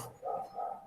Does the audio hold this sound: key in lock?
no